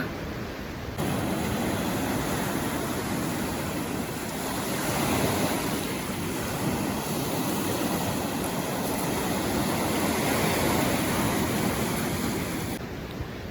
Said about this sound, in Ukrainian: Це дуже дивно, бо вітру зовсім немає, а море штормить.